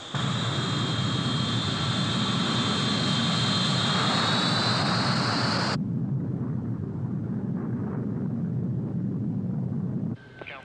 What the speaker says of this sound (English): Trans-Allied 136, you're cleared for takeoff.